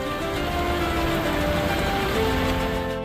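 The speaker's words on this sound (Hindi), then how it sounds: "तेज बारिश हो रही है" Heavy rain falls over Delhi and nearby cities on a Wednesday evening, a steady, dense hiss that stays loud and unbroken for about three seconds with no voices.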